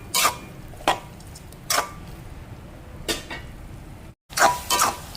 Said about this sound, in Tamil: இப்போ இந்த தக்காளி பழம் எல்லாம் நல்லா வதங்கி வரட்டுக்கு